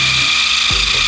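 A power tool polishes the metal of a Honda CB400Four motorcycle with Blue Magic metal polish, making a loud, steady high-pitched whine that dips briefly in pitch under load, close up, with no talking.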